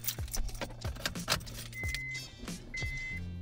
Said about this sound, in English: put the key in the ignition